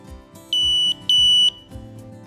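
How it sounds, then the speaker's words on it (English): A metal detector wanded along a walleye at a fishing tournament weigh station gives two sustained electronic beeps, loud and close, over a low background hum. "If you hear the metal detector beep, there is an abnormality."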